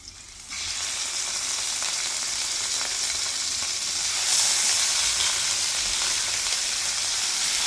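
Chicken pieces sizzle loudly in a hot pan after aromatics, a steady bright hiss that jumps up as the meat goes in and holds continuous and close with no speech.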